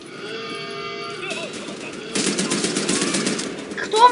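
Gunfire in the shooter Wolfenstein: The New Order, a dense burst of rapid automatic shots in the second half, loud and crackling over game sounds, with a voice talking in the background.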